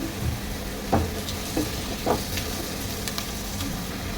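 Chopped onion and garlic frying in oil for chicken khichuri, a steady low sizzle with a few soft stirring knocks and scrapes near the pan, no talking.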